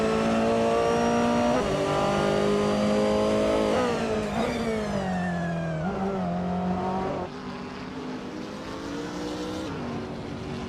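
Racing video game engine roar of a 2018 Ford Mustang GT4 and other GT4 race cars, revving up through gears with pitch climbing and dropping at shifts, loud and continuous with no speech.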